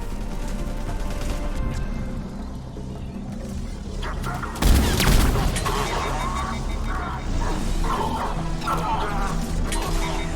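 Gunfire during a firefight in Mass Effect 3, sustained shots and a heavy crash midway, mixed under urgent character dialogue and battle noise.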